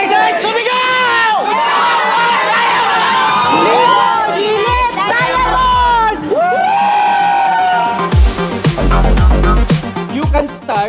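A large indoor crowd at a company anniversary event in the Philippines cheers, whoops and shouts together, loud and sustained, with chanted calls and excited voices rising in bursts and a few heavy thumps near the end.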